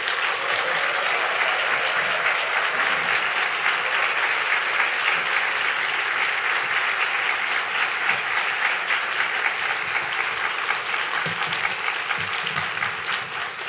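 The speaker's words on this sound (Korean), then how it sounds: "큰 박수로 맞이해주시죠." A church congregation bursts into loud, sustained applause to welcome the pastor, thick continuous clapping filling the room for many seconds without letting up.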